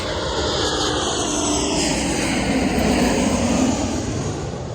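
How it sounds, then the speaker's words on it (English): Steady, loud roar of a JetBlue airliner flying overhead and coming in to land near Gravelly Point, a broad continuous engine rush that holds for the whole stretch with no talk. "You can see the planes flying and landing."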